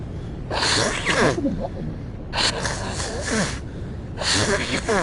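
Three breathy, hissing bursts, close and fairly loud, sound like sneezes or sharp gasps, with speech mixed in between them.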